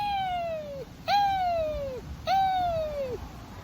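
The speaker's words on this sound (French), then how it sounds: "Alors, on a le hibou, un suspect." Three long descending hoots with layered harmonics sound one after another at a steady pace, each call clear and fairly loud over a faint low rumble, from an owl suspected of taking backyard Plymouth Rock chickens.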